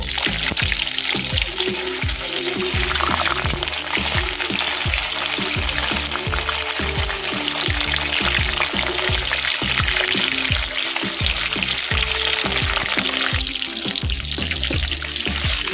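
Chicken muitha dumplings fry in hot oil in a kadai, a steady, loud, close sizzle with dense crackling pops throughout, no talking.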